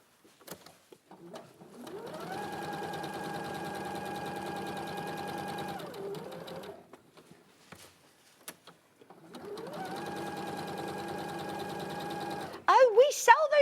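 A sewing machine runs in two long bursts of fast, even stitching, close and steady, separated by a brief pause, with a voice speaking softly near the end.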